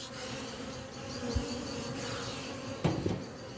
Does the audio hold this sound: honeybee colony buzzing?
yes